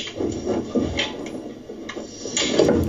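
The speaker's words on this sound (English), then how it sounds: "This door makes 3 sounds." A door being worked through its movement, giving a series of wooden knocks and rubbing clunks, with several distinct thuds spread across the clip at moderate, close range.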